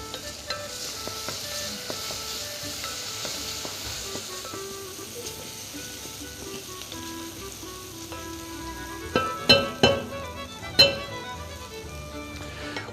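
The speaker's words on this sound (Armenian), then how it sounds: "Դրա համար հիմա սոխի հետ կտապակենք նաեւ սերկևիլը։" Quince pieces fry with onion in a hot pan, giving a steady soft sizzle throughout, with a few sharp utensil clacks against the pan near the end as the mix is stirred; no one speaks.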